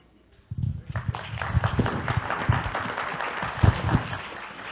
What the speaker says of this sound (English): Clapping for Scalia